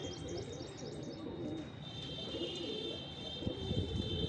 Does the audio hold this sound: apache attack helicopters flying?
no